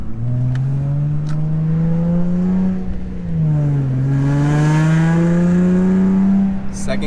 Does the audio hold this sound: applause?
no